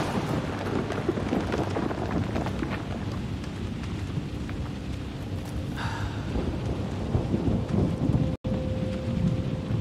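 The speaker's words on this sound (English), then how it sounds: "The storm's getting worse!" A video-game thunderstorm in Outlast 2: steady, loud rain hisses throughout while low rolling thunder rumbles underneath, with no voices.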